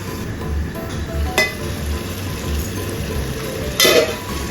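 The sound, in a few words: mushroom biryani masala frying in oil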